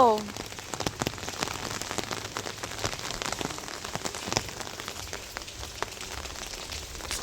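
Heavy rain pours steadily outside a house in cold weather, a dense continuous patter with close drips and splashes throughout, loud and unbroken.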